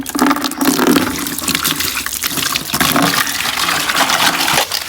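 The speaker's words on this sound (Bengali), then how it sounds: "এখন হচ্ছে মাছ ধোয়া হবে" Loud, steady running water from a tap while fish is washed, a continuous close gushing splash with no talking.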